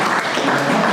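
Audience applause at a labor-union gathering, a dense continuous clatter of many hands throughout one brief burst, fairly loud and even.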